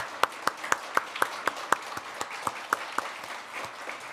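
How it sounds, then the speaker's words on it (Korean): Church congregation applauding during a Sunday worship service to welcome a new deacon, a steady run of distinct claps about two per second, moderate and fairly sparse, with no talking over it. "박수로 맞겠습니다."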